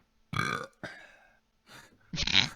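Someone lets out a few loud, close burps in quick succession, separated by short pauses, with no talking.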